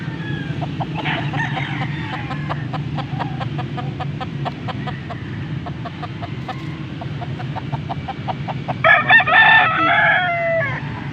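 Roosters and chickens at a fowl sale in Pampanga fill the air with rapid, repeated clucks over a low background rumble, and a loud rooster crow rises near the end.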